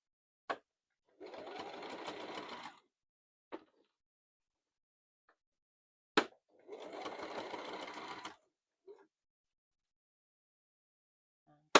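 Sewing machine stitching practice lines: two separate bursts of rapid mechanical stitching, each about one and a half to two seconds long, with sharp clicks and small handling noises between them in a quiet room.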